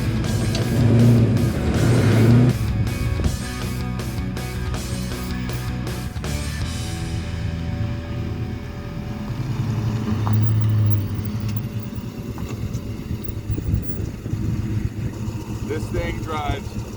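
A 1970 Dodge Coronet with a swapped 6.1 HEMI V8 drives along, its engine a loud, rumbling drone that rises and falls, with people talking over it throughout.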